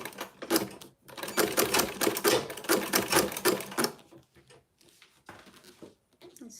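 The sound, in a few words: sewing machine stitching leather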